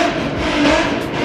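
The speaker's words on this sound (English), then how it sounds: "one person revs it, and then everybody revs it." Car engine revving at a car meet, with Nissan Z and GTR sports cars around, a loud close roar that swells and holds for about a second.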